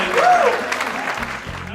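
An audience at an Essex County College talk applauds for Camille Yarbrough, with steady, dense clapping filling the room and a voice briefly audible over it.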